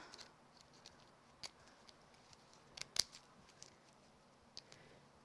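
Scissors trim paper card for a handmade monochrome Christmas card, giving soft, close snips in a loose irregular series with one sharper cut in the middle, all faint and without speech.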